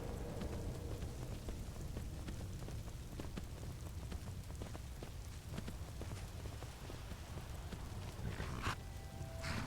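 Steady rain hisses in Skyrim, a dense even wash with scattered drops pattering nearby and no voices.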